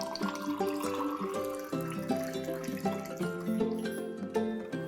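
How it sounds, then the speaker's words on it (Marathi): Cold water pours into a glass holding orange sharbat powder, a close, continuous gurgling stream whose ringing tone climbs steadily in pitch as the glass fills. "थंड पाणी घालूया यात."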